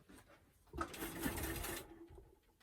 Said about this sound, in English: And then again, do a back stitch at your other end.